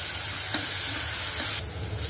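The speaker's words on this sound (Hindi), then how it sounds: "अब इसको हम भूनने देंगे, जब तक ये गोल्डन ब्राउन ना हो जाए तब तक हम इसको भूनेंगे।" Finely chopped onion fries in a pan with a steady, close sizzle and soft stirring, continuous over a short stretch that drops slightly in level near the end, with no voices.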